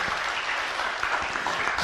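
A group at a meditation gathering breaks into applause, a brief burst of dense, steady clapping from many people filling the space without a pause.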